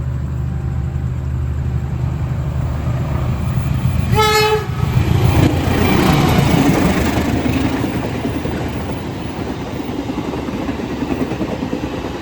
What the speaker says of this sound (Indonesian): ternyata yang melintas adalah kereta api Serayu Malam dari stasiun Pasar Senen dengan tujuan akhir stasiun Purwokerto